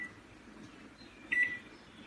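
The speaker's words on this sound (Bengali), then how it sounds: "মাইক্রোওয়েভ দেওয়ার পর আপনি টাইম সেট করে দিন।" A microwave oven gives a single short electronic beep as its timer is set, standing alone against a quiet room hum.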